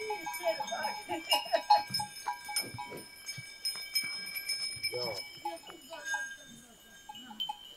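Several sheep bleat near and far, mixed with scattered animal sounds and faint bell tones in an open outdoor setting.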